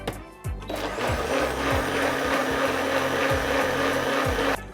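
A blender runs loudly and steadily for several seconds, blending sugar and water for syrup, a dense whirring roar with low rhythmic thumps as the contents churn, then cuts off.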